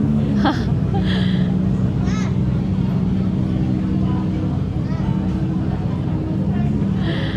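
Motorcycle engines rumble steadily outside Kopi Ladang cafe in Janda Baik among a busy crowd, a loud low drone with occasional revs, with people talking over it.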